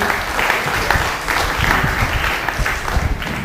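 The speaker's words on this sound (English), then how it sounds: "A round of applause for Father Jude." An audience claps after a Jesuit ignite talk, a dense, steady round of applause filling the room and holding at a consistent level for the full stretch.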